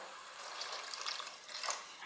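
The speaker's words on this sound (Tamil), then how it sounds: "இப்போ நான் வந்து அஞ்சு கப் தண்ணி சேர்க்க போகிறேன்" Five cups of water poured into two and a half cups of rice for plain kuska, a soft, continuous splashing pour with faint fluctuations, fairly quiet and close.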